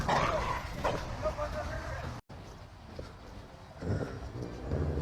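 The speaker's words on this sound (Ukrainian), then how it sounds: "Прикольно у вас песик." A small dog yips, barks and whimpers in short close bursts while people talk over it, with a brief silent dropout partway through.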